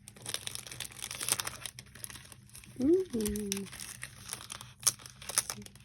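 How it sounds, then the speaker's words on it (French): Paper wrapping on an advent calendar gift crinkles and tears in short, close bursts while someone talks. "Là je vais ouvrir le 25. Attendez. Je vais déballer là."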